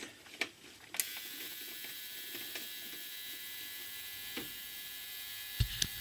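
An ultrasonic parts cleaner's timer dial being turned, with a few faint ratcheting clicks spread apart over a steady quiet electrical hum, ending in a couple of closer knocks.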